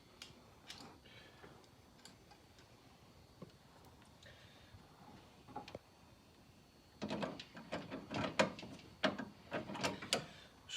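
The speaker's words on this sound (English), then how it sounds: "Just going to use the pliers to take off this, or loosen up this petcock and drain some coolant out." Pliers grip and turn a plastic radiator petcock on a 1978 Chevy Camaro, giving quiet ticks and clicks that swell into a busier burst of ratcheting scrapes and taps near the end, close and with no talking.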